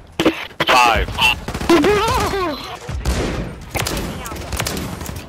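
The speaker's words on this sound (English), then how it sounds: "Ah, the shotgun!" Shotgun blasts in Call of Duty Modern Warfare 3, several sharp reports scattered across the moment, heard under loud, excited voices chatting over the game.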